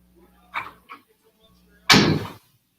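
A door slams shut indoors with one loud, sharp bang that rings briefly, following a few fainter, softer sounds.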